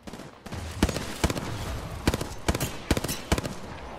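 Gunfire in the video game Apex Legends, a series of sharp single shots spaced about half a second apart over a continuous background of game noise, fairly loud and close.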